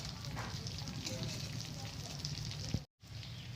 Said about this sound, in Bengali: নেভা নেভা জালে ভাজতে হবে তা না হলে ভেতরের মশলাগুলো বেরিয়ে যাবে